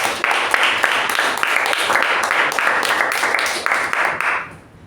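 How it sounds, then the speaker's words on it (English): Sustained round of applause at a Toastmasters club meeting for the Toastmaster of the day, dense crisp clapping from a room of people held steady for several seconds before fading out. "A big round of applause to Toastmaster Ujwal."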